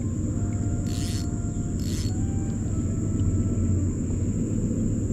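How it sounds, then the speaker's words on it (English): A train crosses a railroad lift bridge over a canal, heard as a steady distant low rumble under insect chirping and a persistent high hum outdoors, with two brief hissy bursts. "there's a train going over the railroad bridge,"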